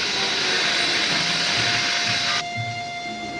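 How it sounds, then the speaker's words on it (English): A train runs steadily in a 1946 Sherlock Holmes film, a loud continuous rushing rumble with high whistling tones that drops slightly in level partway through, with no talk. "This train will stop at Topham."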